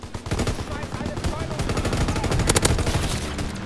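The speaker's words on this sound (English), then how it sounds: "Why is this guy always shooting at me," Rapid bursts of gunfire from a World War II shooter game crackle nonstop, with a denser volley near the end and a voice murmuring underneath.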